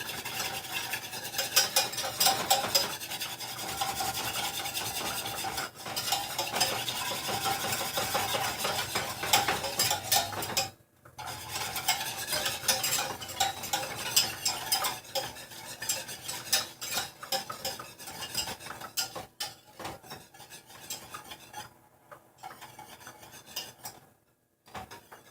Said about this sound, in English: just put a little bit of flour in here. Beat it with a whisk.